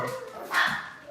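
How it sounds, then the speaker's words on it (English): Dogs barking indoors, a short bark rising over quiet background noise, with faint whimpering tones around it. "Oh, Lord, these dogs."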